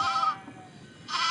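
Sheep bleat in a Nancy Drew video game, two short wavering bleats separated by a quiet gap, near and clear with nothing else over them.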